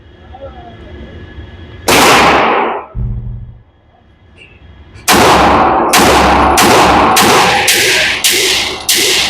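A Vulcan firearm fires at a shooting range: one loud, sharp report, a pause, then a rapid string of about seven close shots in quick succession, each with a short ringing tail.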